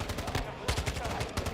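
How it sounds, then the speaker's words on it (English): Rapid gunfire from the Modern Warfare 2 video game, bursts of shots repeating in quick succession at moderate level, with gaming sounds and some talk mixed in. "there's like a guy shooting at my fucking UAV"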